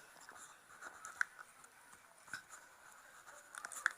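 A pen scratches across paper while someone writes out a class 10 maths solution, with faint, intermittent strokes and small taps, close but very quiet.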